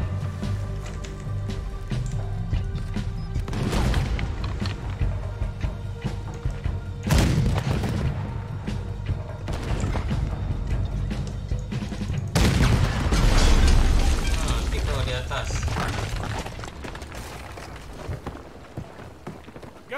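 Cannon fire in the video game Red Dead Redemption 2, with a few heavy booms landing amid a continuous rumble of battle noise, hoofbeats and music.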